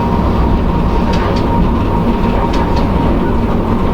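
An EP1 electric locomotive under way, heard from inside the cab: a steady, loud low rumble and rolling drone with faint intermittent wheel clicks, continuous with no speech.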